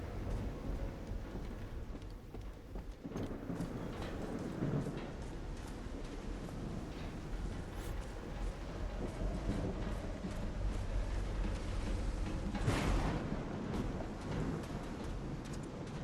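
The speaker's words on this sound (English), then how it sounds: "I can't really hear anything over all this lightning, thunder" Thunder rolls through a storm in the video game Call of the Sea, with low rumbles over a steady wash of rain and a sharper crack near the end, no voices heard.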